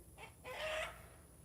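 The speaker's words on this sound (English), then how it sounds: "for this here rooster too" A rooster on a farm gives a few faint clucks, then a short, louder crow-like call rising to a peak before fading back into quiet ambient noise.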